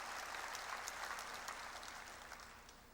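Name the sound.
congregation applause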